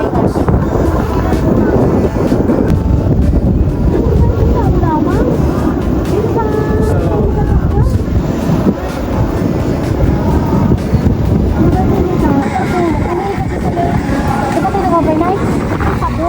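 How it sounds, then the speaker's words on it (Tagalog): Strong wind at a beach buffets the microphone with a constant roaring rush, while voices talk faintly underneath and waves are present. "sobrang hangin, oh."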